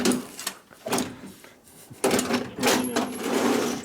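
A workshop drawer slides open and shut with a short woody rattle, close and fairly loud, in a garage where a 1961 Harley-Davidson FL 74ci panhead engine is being rebuilt. People talk nearby.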